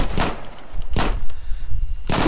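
Gunfire in the war game Foxhole: three sharp, loud shots spaced roughly a second apart, with faint background din between them.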